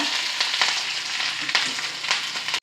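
Mustard seeds, fenugreek, shallots and curry leaves tempering in hot oil for a Kerala jackfruit-seed and mango curry, a steady close sizzle with brief crackling pops throughout, no talking.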